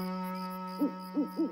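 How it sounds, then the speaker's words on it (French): An owl hoots three times, soft rounded calls spaced under a second apart, over a steady humming tonal drone. "Ce n'est qu'un hibou qui s'installe dans les arbres la nuit."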